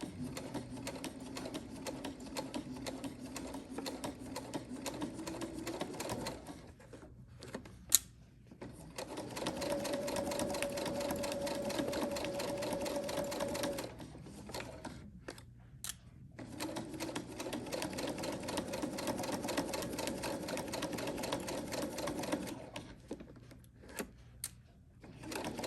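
A sewing machine stitches a curve on a ruffle bag, running in close, rapid mechanical bursts with two brief pauses between the runs, and no talking.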